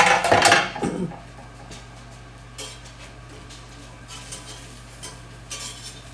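Food is flipped in a frying pan with too little oil, opening with a sharp clatter and scrape of a utensil against the pan, then a low steady sizzle with occasional light taps and scrapes.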